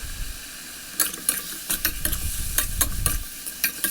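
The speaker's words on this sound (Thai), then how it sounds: "ก็ผัดคลุกเคล้าให้เข้ากันนะคะ" Sweet and sour pork being stir-fried in a pan, with a steady low sizzle under repeated scraping strokes of a spatula that come in an uneven rhythm, close and moderately loud.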